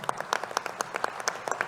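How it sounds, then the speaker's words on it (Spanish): Applause at a political gathering for a Mexican comrade, a short, scattered patter of individual claps that sounds fairly faint and distant. "yo pido un aplauso para el compañero mexicano"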